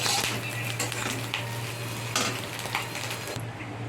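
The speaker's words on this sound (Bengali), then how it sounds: "ডিমগুলো ভাজা হয়ে গেছে এখন ডিমগুলোকে তুলে নিচ্ছি" Fried fish roe being lifted from a pan of hot oil, with steady sizzling, scraping spatula strokes and occasional clinks of utensil against the pan, close and moderately quiet.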